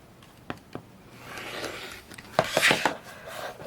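A rotary cutter or ruler trims the edges of a fabric flying geese quilt block. It makes soft scraping and rubbing sounds with a few light taps. The sound is close and quiet, and a louder gritty stretch comes near the end.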